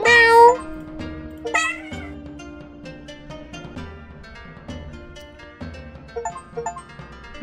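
Several cartoonish cats in the video game 100 Asian Cats meow over a soft, plinking musical backdrop. A loud mew opens the clip, and scattered short meows follow at irregular intervals.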